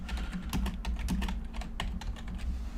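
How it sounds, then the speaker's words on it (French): Rapid keystrokes on a computer keyboard as a Python print command is typed, a quick irregular run of close, crisp clicks over a low steady hum, with no voice. "Alors on va taper cette commande."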